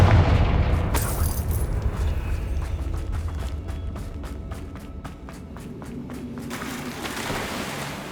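A Confringo fire-spell blast in Hogwarts Legacy lands as a loud, booming burst, then rolls into a sustained rumbling wash with light rapid crackles and steps.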